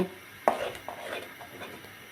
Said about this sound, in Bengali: কালারের জন্য হলুদের গুঁড়ো দিয়ে আবারও খুব ভালো করে আমি এটাকে নাড়তে থাকবো